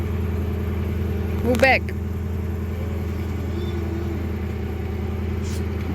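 Mercury Marauder V8 idling with an exhaust fault, a steady low rumble with a slightly uneven beat running throughout, near and continuous, while someone briefly speaks over it.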